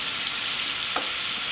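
Butter, about 50 grams, melting and sizzling in a pan over the indirect zone of a BBQ grill, a steady soft frying hiss with no talk.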